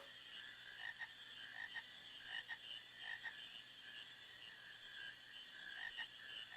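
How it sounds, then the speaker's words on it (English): Frogs croak in a swamp during the frog-catching mini game of Final Fantasy IX, a faint, continuous chorus of pulsing calls with no talk. "this is a whole mini game where you only have to catch 99 frogs total"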